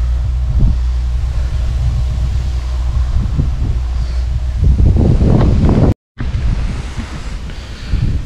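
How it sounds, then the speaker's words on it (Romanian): Strong wind buffets the microphone at an outdoor carp fishing spot, a loud, continuous rushing roar with gusts building toward the end and one brief dropout, no talk. "cam bate vântul, s-a făcut urât afară"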